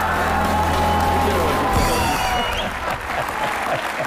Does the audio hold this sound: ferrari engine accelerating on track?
no